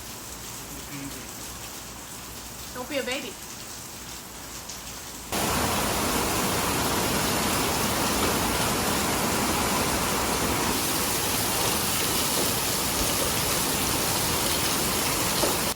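Rain falls outside around a VW Thing, a quieter patch with a brief spoken line at first, then a sudden jump to a loud, dense, steady hiss of rain that continues to the end.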